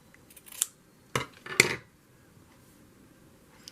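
Sewing scissors snip through fabric in a few quick, close cuts, about three sharp crunchy bursts amid quiet room tone.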